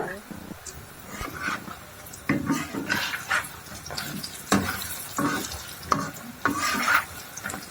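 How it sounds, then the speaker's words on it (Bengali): Lentil fritters (dal bora) fry in oil in a pan, giving a steady close sizzle broken by stirring and the scrape and clink of a utensil against the pan. "আমি বড়াটা ভেজে নিলাম সুন্দর করে"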